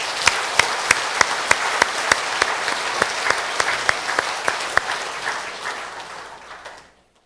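Sustained applause from a church congregation, dense clapping with a few sharp claps standing out, fading away at the end.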